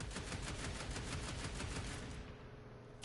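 Rapid weapon fire in the Warframe shooter, a steady stream of quick, evenly spaced shots rattling continuously and fairly faint, easing off slightly near the end with no voices.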